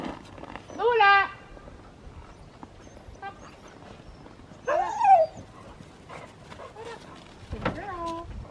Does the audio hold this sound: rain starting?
no